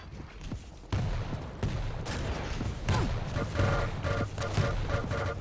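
Lightning gun and rocket launcher fire trade off at close range in a competitive Quake match, with a steady buzzing beam over repeated heavy blasts, loud and dense throughout.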